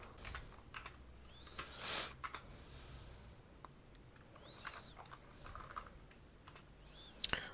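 Model name typed on a computer keyboard while setting up OpenWRT firmware for a Cudy WR3000H router, heard as faint, sparse key clicks in a quiet room with a few louder taps.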